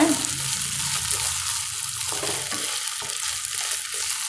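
Ginger garlic paste sautéing in a pan for chilli bread, a steady, close hiss of frying that holds evenly throughout with no talk.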